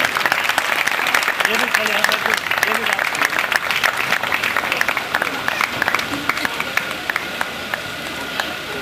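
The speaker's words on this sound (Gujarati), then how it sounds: "ખૂબ ખૂબ તાળી આપણે ચાલુ રાખશું. જબરજસ્ત તાળી, જબરજસ્ત." Sustained audience applause fills a Bhagavat Saptah religious gathering of the Ruparel family, dense and steady throughout, with a voice talking over the clapping.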